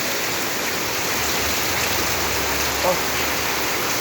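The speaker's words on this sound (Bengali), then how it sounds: "মুষলধারে বৃষ্টি হচ্ছে পবিত্র ঈদুল আজহার আগে" A heavy downpour of rain falls as a steady, dense hiss and roar. It is constant and fairly loud for the whole stretch, with no breaks.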